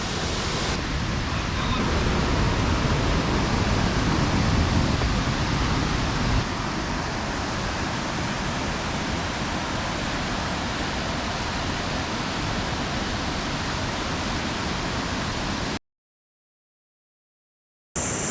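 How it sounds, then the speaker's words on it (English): Rushing water at the Agua Azul waterfall in the Mexican jungle roars as a steady, dense broadband wash, loud and unbroken for about sixteen seconds before cutting to silence. "It's a beautiful waterfall and it's such a nice water."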